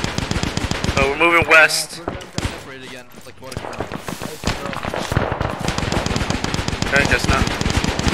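Rapid bursts of gunfire in the WW2 Omaha Beach D-Day mission of the video game Arma 3, sharp repeated shots crackling throughout with players talking over them.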